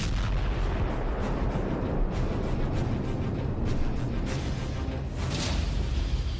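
Dense rumbling explosions and artillery fire roll on continuously, loud and booming with sharp cracks on top, no voices present.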